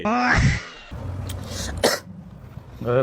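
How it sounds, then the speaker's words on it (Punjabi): A man with a chest cough and a throat problem coughs and clears his throat, a short harsh hack followed by a second rough burst, with a voice briefly heard before and after. "ਖਾਸੀ ਨੇ ਕੰਮ ਖਰਾਬ ਕੀਤਾ"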